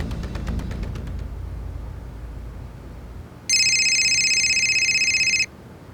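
A telephone rings once, a bright electronic trill lasting about two seconds, heard alone after a stretch of faint background hum and muffled sound.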